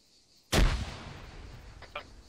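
Sharp, loud grenade explosion in Arma 3, a sudden boom that rolls off into a rumbling tail, followed by a couple of fainter sharp cracks.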